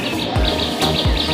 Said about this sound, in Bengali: শুনতে পাচ্ছ কুকু পাখি ডাকছে